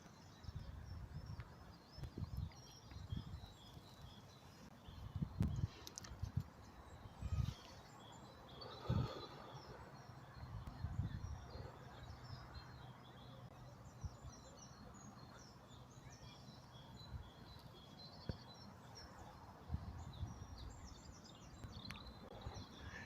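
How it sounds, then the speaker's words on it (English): Birds call and sing faintly at Ravelston Nature Reserve, scattered chirps drifting over a quiet outdoor background with a few louder low thumps and rustles along a walking path. "You hear plenty of birds up here"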